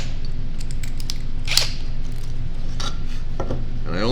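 A drill countersinks screw holes in a wooden birdhouse. A steady motor whir runs throughout, with short scraping bites of the bit into the wood and one sharper squeak partway through.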